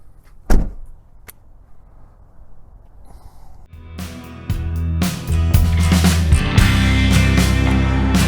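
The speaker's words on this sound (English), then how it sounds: "you're going to have to close this up first, and then close up the trunk" A 2022 Ford Bronco Wildtrak's trunk is shut with a single sharp thump, close and loud. A second, heavier clatter follows a few seconds later, then a sustained noisy rumble, with no talking.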